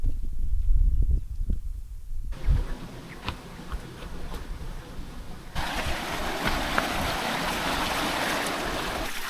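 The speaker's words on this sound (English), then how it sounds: "that's probably warm water running down there" Warm water from a hot spring running down over white rocks near a hot pool in the New Zealand backcountry, giving a steady broadband rush that grows louder and brighter partway through, with no talk.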